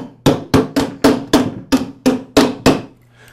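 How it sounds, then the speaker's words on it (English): A rubber mallet taps a connecting rod onto its bearing during a piston and cylinder replacement on a Campbell Hausfeld oilless air compressor, nine close, evenly spaced knocks in quick succession. "this time I'll use a rubber mallet to tap the connecting rod onto the bearing"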